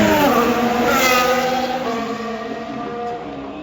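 A Formula 1 car at full throttle on the Las Vegas Grand Prix street circuit, its loud high-pitched engine howl rising in a steady sweep of harmonics, close and continuous with no lift, dominating the scene without talk.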